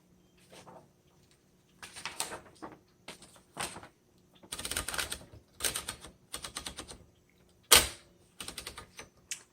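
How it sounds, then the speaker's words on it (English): Keystrokes from a 1959 Remington Quiet Riter manual typewriter, heard up close in irregular bursts of rapid clacking with short pauses between, and a louder sharp strike near the end that could be the carriage return. "All right, let's go ahead and do our typing demo."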